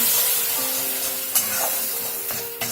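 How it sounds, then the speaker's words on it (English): Mutton curry with salt being stirred in a hot pan, a steady broadband sizzle with a few brief scrapes of a spoon against the pan, close and continuous with no talking. "After giving a little bit of stir"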